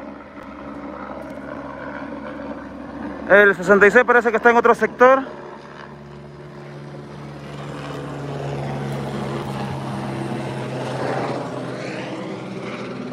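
A firefighting helicopter works nearby on a wildfire, its rotor and engine drone rising and falling steadily in the background while people talk briefly over it.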